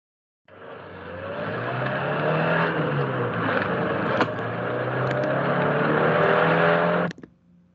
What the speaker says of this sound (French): Ça, c'est le son on dit la voiture.